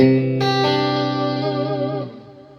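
A clean electric guitar chord rings out, joined by a second strum, sustaining evenly before fading away.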